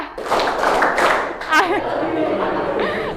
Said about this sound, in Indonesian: Tepuk tangan 1 kali. Tepuk tangan 2 kali.